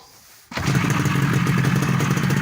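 A restored Yamaha LC motorcycle engine fires up abruptly and settles into a fast, steady burbling idle, loud and close, with no talking.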